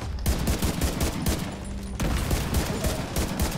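Rapid gunfire from a weapon in The Division 2 rattles on steadily throughout, dense repeated shots layered over the sounds of an ongoing firefight, loud and close.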